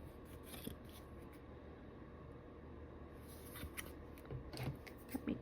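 Scissors trim paper for a Valentine memory album, giving soft, close snips and rustles with a few sharper cuts near the end, quiet and without talk.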